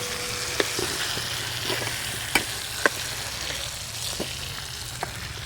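A tempering (popu) for cucumber chutney sizzles in hot oil, a steady close frying hiss with scattered sharp crackles and pops, and no talking.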